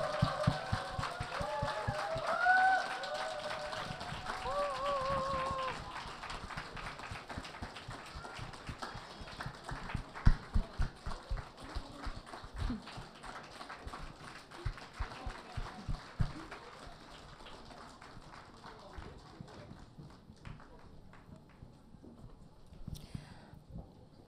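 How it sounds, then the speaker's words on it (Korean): A church congregation applauds as children graduating from the elementary and kindergarten department enter a graduation thanksgiving service, the clapping rolling on at moderate volume under room noise, with a few sharper claps and shuffling as it gradually fades. "다시 한번 큰 박수로 맞이해 주시면"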